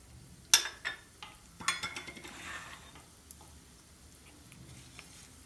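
Red chili flakes being sautéed in a pan, with a sharp metal utensil clack followed by several scraping and stirring knocks and faint sizzle, fading to quiet pan noise.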